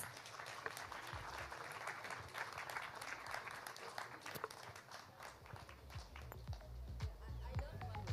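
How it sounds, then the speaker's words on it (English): An audience at a literary festival gives a final round of applause for the speakers, a steady wash of clapping that holds at an even level, with some low rumble and scattered sharper claps. "Ladies and gentlemen, once again, a final round of applause for our speakers."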